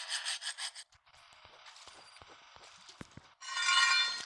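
A metal blade scrapes and rubs in the video game Metel, heard as faint, close grinding and scraping between louder bursts of game noise at the start and end.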